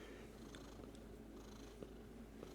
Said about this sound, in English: She's purring away